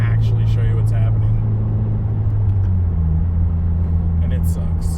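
A stock 2017 Subaru WRX engine with boost issues gives off a loud, steady low drone that runs continuously and close, with no breaks.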